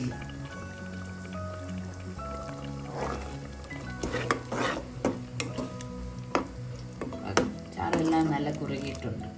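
A Kerala-style chickpea curry (kadala curry) thickened with ground chickpeas is stirred in a pot, giving wet squishing and dripping sounds, close by, with a few sharper spoon knocks against the pot over a steady background hum.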